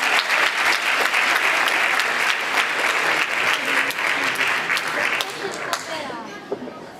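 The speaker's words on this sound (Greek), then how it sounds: "Ένα χειροκρότημα για τους εθελοντές." Audience applause for volunteers at a cultural performance, a burst of clapping with some voices mixed in, thinning and fading near the end.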